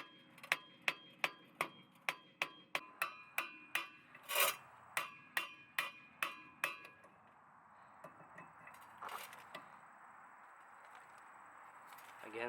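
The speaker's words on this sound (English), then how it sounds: "make sure you hit right here with a sledgehammer to give it a bit of vibration right here as well" A sledgehammer strikes a Honda Civic brake rotor to loosen it, producing about a dozen sharp, ringing metallic blows in a quick regular rhythm, followed by quieter scraping and rubbing.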